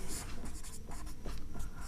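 Marker or chalk writing on a classroom board during a maths lesson, continuous scratchy strokes in short bursts, fairly close and loud, with a little background noise.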